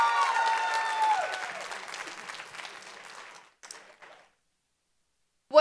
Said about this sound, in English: Give another round of applause for African Sensation.